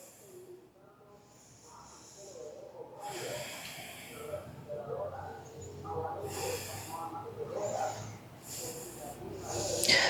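Deep inhales and exhales during a hip-opening yoga stretch, slow audible breaths recorded close up, with a soft voice speaking over part of them.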